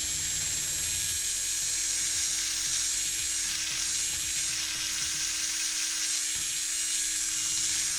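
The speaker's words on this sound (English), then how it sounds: "Nice and easy to mix paints now." A Ferrex mini electric screwdriver from Aldi spins while stirring paint. It gives a steady, unbroken high motor whir, close and even throughout.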